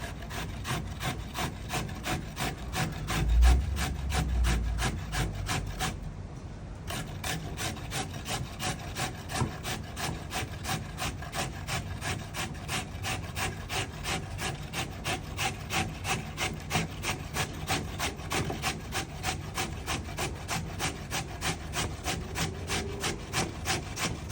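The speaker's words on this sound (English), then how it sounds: "we're not gonna blend this out, we're actually gonna grate this." Green bananas being grated by hand for fufu, a steady rapid scraping rasp that repeats evenly and close up throughout, with one brief pause partway through and no talk.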